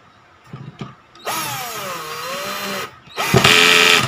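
A Black and Decker GC1800 cordless drill drives a screw into wood in two bursts: a whining motor run that dips in pitch as the screw bites, a short pause, then another loud run.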